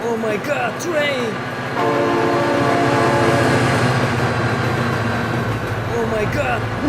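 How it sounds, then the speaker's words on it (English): A train in the BeamNG.drive driving game roars past with a long, loud horn blast held for several seconds over rumbling rail noise, while a person exclaims excitedly. "Oh my god, train!"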